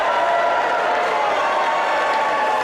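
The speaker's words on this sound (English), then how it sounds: "And the crowd go wild." A wrestling crowd at a women's match cheers and applauds, a loud, dense, steady roar of clapping and shouting filling the whole stretch.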